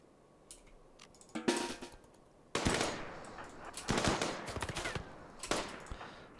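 Video game gunfire comes in rapid automatic bursts, several loud volleys separated by short gaps with sharp individual shots and faint clicking between them.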